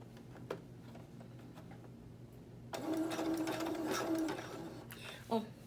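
Sewing machine top stitching a reversible satin bonnet, a steady mechanical whir that starts partway through and runs for a few seconds, with quiet ticks and handling noises before and after.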